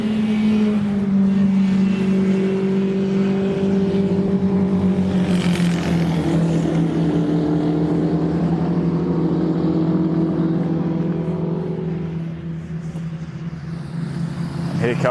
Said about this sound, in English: Here come a number of the cars as well.